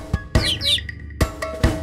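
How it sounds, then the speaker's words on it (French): Bird chirping in a French nursery rhyme for babies: a few quick bright tweets and trills over a light musical backing, close and clear. "Le petit oiseau, petit oiseau"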